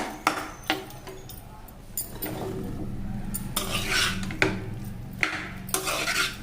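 Drumstick curry stirred in a pan with a spoon: repeated close scraping and clattering strokes against the metal, uneven in rhythm, over a faint background hiss.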